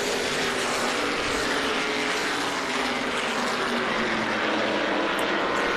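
Race cars in an APC Series race at Jukasa Motor Speedway roar past neck and neck off a corner, a loud continuous engine drone filling the whole stretch.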